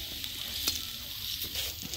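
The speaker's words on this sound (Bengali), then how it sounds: "আলু আমি হালকা লাল লাল করে ভেজে নিচ্ছি" Potatoes frying lightly in oil, a constant dense sizzle with crackling bursts and faint stirring movement.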